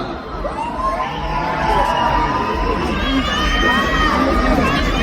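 A large outdoor concert audience at Global Village in Dubai keeps up loud, continuous cheering and shouting, with excited voices blending into a steady roar throughout.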